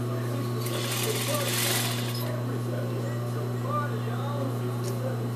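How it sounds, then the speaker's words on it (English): Sewing machine stitching a plaid trouser crotch seam, a steady, fast mechanical whirr running continuously close by, with a person talking over it. "I want to match up the plaid on my crotch together as I stitch it closed up"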